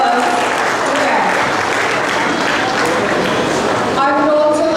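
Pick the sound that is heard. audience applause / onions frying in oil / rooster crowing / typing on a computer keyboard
audience applause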